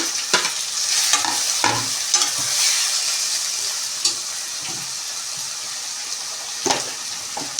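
Onions, green chillies and cucumber fry in a pan with a steady close sizzle, broken by scraping knocks from a spoon stirring them now and then.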